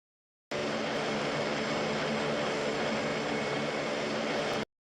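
A military plane climbs with its aircraft engine producing a steady, loud, broadband roar that holds constant for several seconds before cutting off abruptly.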